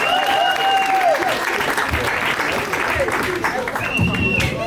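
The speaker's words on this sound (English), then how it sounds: "y'all clap it for Chef Charles." A crowd at a poetry slam applauds steadily throughout, with dense clapping under whoops and raised voices near the front.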